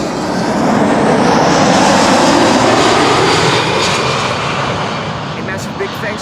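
A Boeing 747 jet roars past at Amsterdam Schiphol Airport, loud and near, its engine noise swelling to a broad peak and then slowly fading, with a voice talking faintly underneath.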